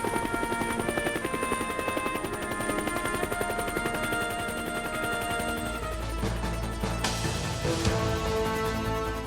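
A Bell UH-1 Huey military helicopter flies close and loud, its rotor thumping in a steady, rapid rhythm throughout with a brief swell of engine noise near the end, and no talk.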